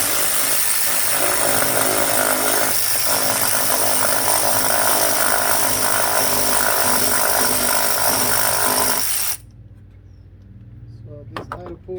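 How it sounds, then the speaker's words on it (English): A power tool whines loudly and continuously while removing a pulley from the alternator of a 2010–2014 Subaru Outback. It then cuts off abruptly, leaving quiet with a few light clicks and clatters. "Okay, time to get power tools."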